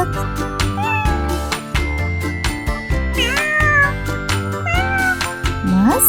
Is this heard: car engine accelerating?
no